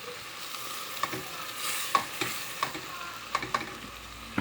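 Vermouth hits a hot pan to deglaze it, raising a steady broadband sizzle with scattered sharp pops and scraping ticks from stirring, close and moderately loud with no talking.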